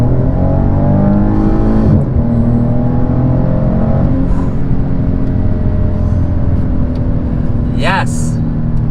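A 2017 Maserati Quattroporte accelerating hard from inside the cabin, its engine note climbing steadily, then dropping sharply at an upshift before rising again, loud and continuous, with a short bit of talk near the end.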